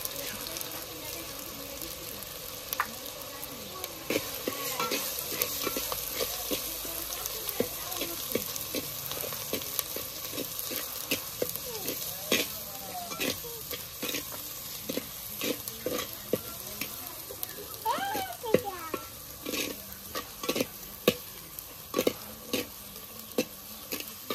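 Chicken being stir-fried in a pan with salt, turmeric and spices, giving a continuous low sizzle broken by repeated sharp scrapes and knocks of the spatula, close and fairly quiet, with no talking.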